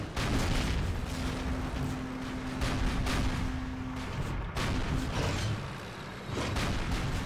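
Battle gunfire in the video game Call of Duty: La Gran Ofensiva: a continuous dense wash of shots and booms, loud and unbroken apart from one brief drop.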